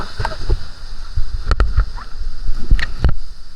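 Water rushing at Nipli waterfall, a small falls, gives a steady close wash with gurgles and a few splashy bursts, and no one speaks over it.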